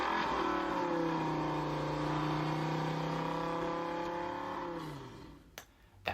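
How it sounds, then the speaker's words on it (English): A car passes close by, its engine note sweeping steadily for about five seconds before fading away, followed by a couple of brief knocks. "that was a car."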